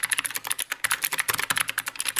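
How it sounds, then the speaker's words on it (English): Rapid clacking keystrokes on a very cheap computer keyboard, a fast irregular run of crisp, close taps with no talking. "hearing somebody type on a keyboard, it sounds nice"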